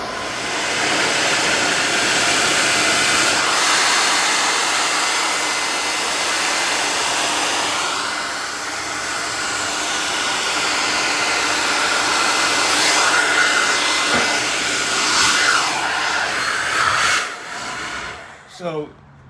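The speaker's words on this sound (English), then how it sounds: "I'm simply using a blow dryer" Blow dryer aimed at the dented passenger fender of a 2014 Honda Accord EX-L V6 roars with a loud, steady airy whoosh that shifts in tone as it moves, then cuts out near the end.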